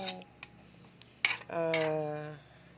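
A metal spoon stirring papaya in a pot for ginataang papaya, with a few sharp clinks and scrapes against the metal and a ringing knock that trails off, close and alone.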